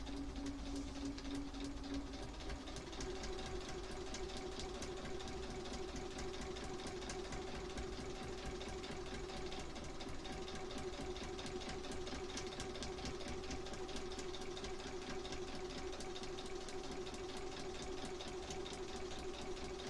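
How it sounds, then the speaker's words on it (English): A sewing machine stitching a quilt block runs continuously with a fast, even mechanical whir and low motor hum, steady and moderately quiet throughout with no speech. "now I'm sewing on block 4"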